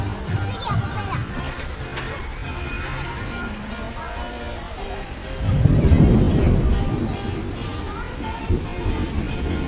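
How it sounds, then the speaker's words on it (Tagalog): Rain pours outdoors at a wedding venue in Silang, Cavite, a steady hiss that swells louder partway through, with people talking over it. "Ay, nabutan tayo ng ulan."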